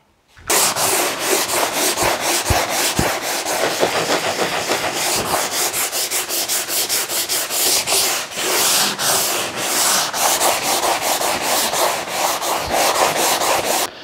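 Steady, continuous sanding of a wooden furniture surface, a loud abrasive rubbing hiss running throughout with small rhythmic variations from the strokes.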